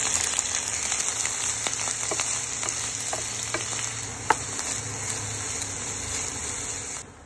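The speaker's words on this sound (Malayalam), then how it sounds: "അതിലേക്ക് അരിഞ്ഞു വെച്ച പിണ്ടി ചേർത്ത് ഇളക്കുക." Chopped banana stem is stir-fried in a pan with mustard seeds, chillies, curry leaves and shallots, giving a loud, continuous oily sizzle close up, with scattered scrapes and taps of stirring and a clack near the end.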